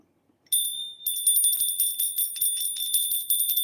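A small bell struck repeatedly in a quick, uneven rhythm, each close, bright hit ringing into the next with a clear, sustained metallic tone.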